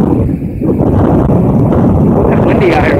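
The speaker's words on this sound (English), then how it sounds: "That windy out here." Strong wind blasting the microphone by the water, a loud, constant roaring rumble that swamps the scene, with a voice speaking beneath it.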